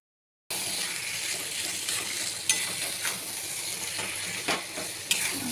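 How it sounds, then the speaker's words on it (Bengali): Ground spices stirred into mutton frying in a pan, a continuous loud sizzle with scraping spoon strokes and a few sharp metallic clinks against the pan. "ভালো করে একটু নেড়ে চেড়ে নেবো"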